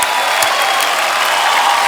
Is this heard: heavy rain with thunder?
no